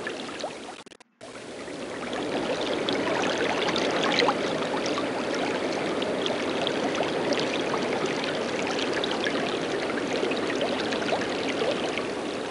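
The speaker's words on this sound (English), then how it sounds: "This appears to be a fairly ordinary river." A fairly ordinary river in Oregon Trail 5 flows in a steady broadband rush of water that starts after a brief dropout and then holds at an even, close, continuous level with no voices.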